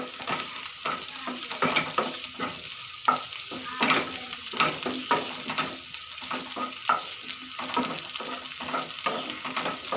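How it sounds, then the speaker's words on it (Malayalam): Chopped green chillies frying in a pan for okra masala curry, stirred with a spoon: a steady close sizzle with repeated scraping strokes in an uneven rhythm, no talk. "ഇനി നമുക്ക് പച്ചമുളക്, നമ്മുടെ അരിഞ്ഞ് വെച്ച പച്ചമുളക് അതിലേക്കിടാം. നമുക്ക് ഇളക്കാം."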